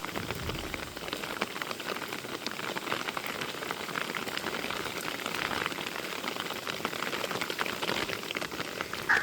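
Heavy morning rain falls on a village, a dense, steady patter of drops on surfaces that fills the whole stretch without any voices.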